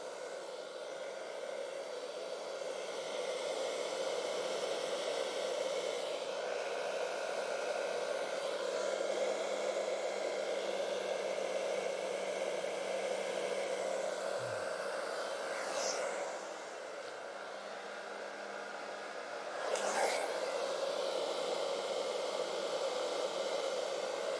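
A hair dryer dries an alcohol ink painting on a 36x48 canvas. Its steady, loud, breathy roar runs the whole time with slight shifts in pitch and intensity, and no one speaks.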